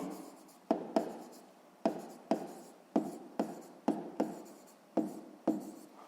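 A pen writes out a sixth-grade math exercise solution by hand in crisp scratching bursts of strokes with short pauses between, close and clear with no talk.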